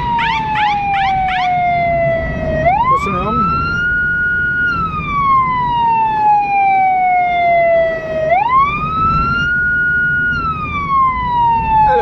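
An emergency vehicle siren on a Budapest street, loud and close, with a rising and falling wail that repeats steadily and a brief burst of faster yelping near the start, with a short spoken word underneath.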